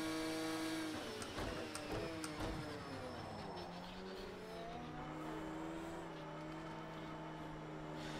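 Porsche 911 GT1 race car engine in Project CARS 2, a steady high-pitched racing drone with shifting revs as gears change early on, faint and continuous like an onboard view during a race.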